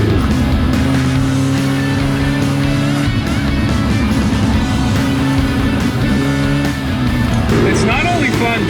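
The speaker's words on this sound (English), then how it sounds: "It's so funny to see that car with its stock suspension going around a turn" Loud engine roar of a car on stock suspension sliding nearly sideways through a turn, steady droning revs with shifting pitch held throughout, voices faintly underneath.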